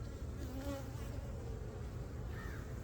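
Honey bees hum steadily in an opened hive of a colony that has likely swarmed, with drones present; a continuous, close, dense drone with a few individual bees whining past, and no talk.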